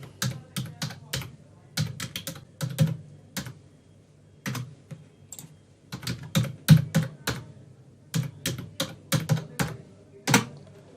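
Password being typed on a computer keyboard, clusters of crisp close key taps in quick irregular bursts with short pauses between, alone and fairly quiet.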